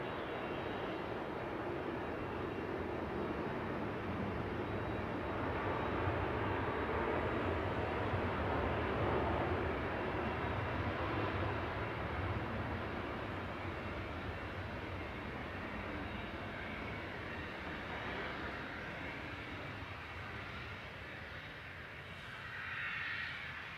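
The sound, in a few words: Ryanair airliner touching down at Manchester Airport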